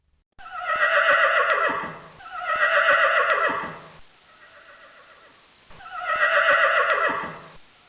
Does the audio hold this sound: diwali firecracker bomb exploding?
no